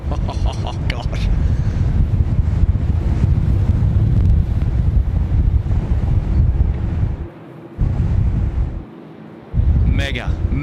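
Strong wind roars across the microphone at Sydney Airport during runway 25 operations, a loud, gusting rumble that briefly drops out twice, with voices talking intermittently.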